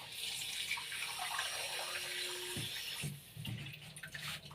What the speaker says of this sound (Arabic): ميه عاديه من الحنفيه.